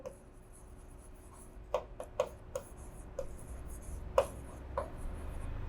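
Chalk or marker taps and scratches on a board during an accounts lesson, a handful of short, sharp strokes spread irregularly across a quiet room with no voices.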